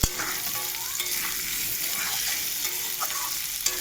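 Potatoes sizzling in a pan after salt and turmeric go in, a close, continuous fry hiss with occasional sharp clicks of a spoon stirring, no voices over it.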